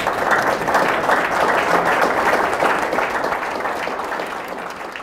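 Sustained applause from an audience at a Korean business award event, dense and steady throughout, fading slightly toward the end.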